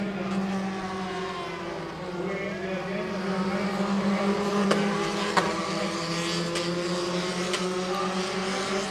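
Formula 4 cars racing in the Southeast Asia championship pass in a close train, making a steady, loud engine whine that rises in pitch, with a commentator talking over it.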